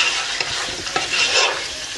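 Onion sautés in hot oil for pork sinigang, a loud, close sizzle with quick scraping stirs of a spoon across the pan.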